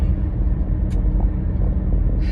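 From inside a car driving on roads in East Tennessee, a constant low road rumble and engine drone hum evenly throughout, with no voices.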